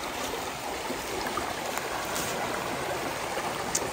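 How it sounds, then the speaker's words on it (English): A rushing river flows through the woods, a continuous broadband wash of water that stays steady and fairly close throughout, with no voices. "when I do some of the videos and I hear the rushing river"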